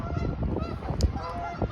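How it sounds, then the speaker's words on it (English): Geese honk repeatedly nearby, a cluster of harsh, nasal calls overlapping in quick succession. "these geese are loud."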